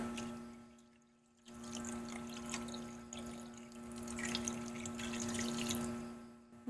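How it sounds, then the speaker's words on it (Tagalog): Water pours steadily into a pot of tilapia paksiw with vinegar and spices, a continuous splashing wash lasting several seconds after a brief lull, under a constant electrical hum. "And then, mag-a-add ako ng water"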